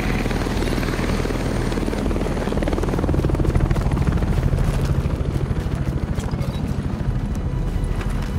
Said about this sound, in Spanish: Helicóptero de evacuación en camino.